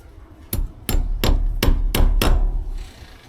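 Six sharp hammer blows ring out in a steady rhythm, close and loud, as a TV satellite cable is fastened to a wall. There is no talking.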